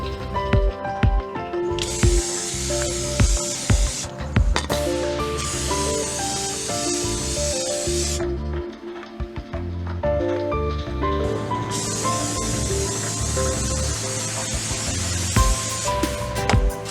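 Bursts of Fluid Film undercoating spray onto car test strips come in several hissing spurts with short pauses between them, heard close over background music.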